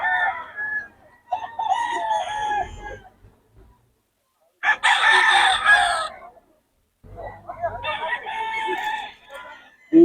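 Roosters crow in several separate calls with gaps of near silence between them, mixed with chicken clucking, close by at a poultry market in Bocaue, with a voice briefly in the background.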